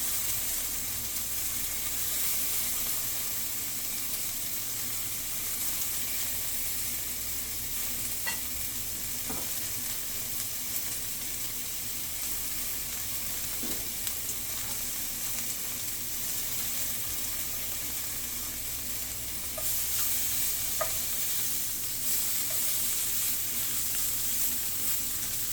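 Tofu bacon sizzles in a pan with a continuous, moderate crackle, joined by occasional light clicks and a brief swell of running water near the end, with no one talking.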